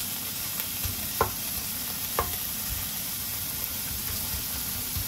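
Food sizzles and hisses in a pan while being stir-fried, with a steady frying hiss and a few sharp scraping stirs.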